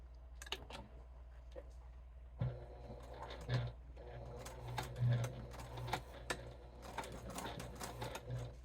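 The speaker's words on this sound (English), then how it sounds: "Back stitch, back stitch." A sewing machine back-stitching a bifold wallet, short bursts of quick mechanical whirring separated by pauses and clicks, fairly quiet and close.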